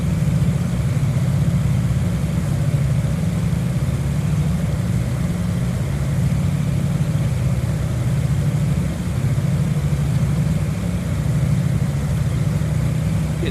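Steady, loud drone of a Beechcraft Baron 58 twin piston engine at high RPM in a flight simulator, an unbroken low rumble with a constant hum lasting throughout, no voices.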